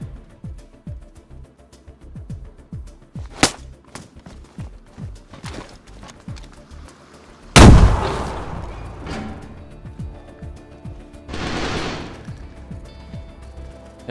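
Gunfire in the survival game DayZ, scattered single shots and a sharp loud burst, with later shots sounding more distant, against quieter clicking and background noise.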